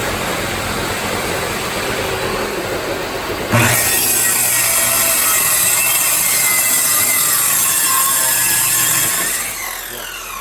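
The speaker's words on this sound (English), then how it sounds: "Finish the inside with a sawzall." A reciprocating saw cuts through a mobile home floor along a wall with a continuous, loud, harsh buzz. Its tone shifts partway through, and it eases off just before the end.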